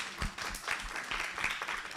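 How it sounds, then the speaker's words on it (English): Audience at a Gita Champion and Gita Avadhanam event applauding teachers, a brief burst of moderately loud clapping from many hands, somewhat muffled, with no voices over it. "shower your love and blessings through your claps"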